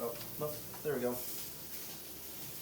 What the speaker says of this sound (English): You can hear my veggies are sizzling here behind me.